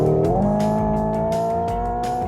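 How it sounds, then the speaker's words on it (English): The synthesized engine note of a Hyundai IONIQ 6 N electric car climbs and then holds hard against the rev limiter, a loud, steady, buzzing drone that stutters with limiter cuts and plays without talk. "up against the rev limiter"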